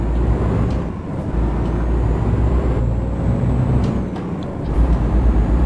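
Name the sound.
truck engine and air brakes from the video game Euro Truck Simulator 2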